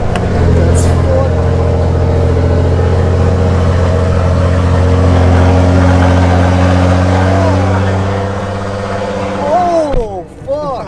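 A Nissan R35 GT-R engine runs with a loud, steady, deep droning hum close by for several seconds. Near the end it dips slightly and a few brief voices come in.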